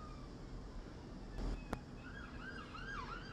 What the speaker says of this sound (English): Another fucking siren across my house.